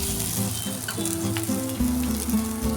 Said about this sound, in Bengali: এই শুকনো লঙ্কা জিরেটা হালকা করে আমি ভেজে নেব